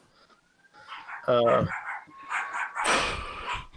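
Dogs bark outdoors, a few loud yapping barks and yips, fairly close, with someone speaking briefly among them.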